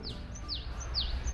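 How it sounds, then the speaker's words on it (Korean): Birds chirp outdoors, three clear descending tweets spaced evenly over a low, steady background rumble. "새소리 들려?"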